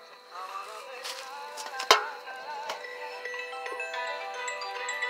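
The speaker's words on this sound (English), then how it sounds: "You can hear the phones inside." Phone ringing inside a metal trash can used as a Faraday cage, a muffled electronic ringtone melody with a sharp clank partway through, heard at moderate level with no talk.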